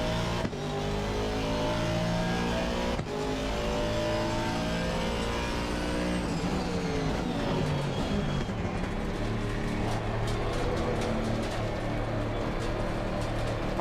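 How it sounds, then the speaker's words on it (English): Car engine in the Assetto Corsa Evolution racing game, a steady loud drone with rising and falling revs and gear changes, continuous and close throughout with no talking. "I think the sound of the engine is better."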